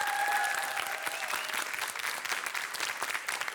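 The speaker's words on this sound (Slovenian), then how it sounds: "En aplavz za odlično borbo." An audience claps for schoolgirl competitors at a school quiz show, a dense, steady patter of applause filling the room at moderate loudness, with a faint voice briefly audible at the start.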